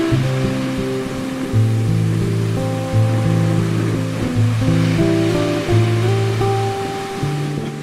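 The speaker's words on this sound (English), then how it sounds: "Listen to those waves." Ocean waves break on the shore in a broad, continuous roar of surf, with a low tonal hum running underneath and no voices.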